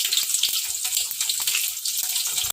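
Garlic and green chili frying in hot mustard oil, a steady close hiss and crackle with dense spitting pops throughout.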